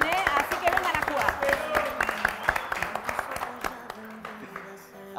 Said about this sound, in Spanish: Aplauso para los participantes.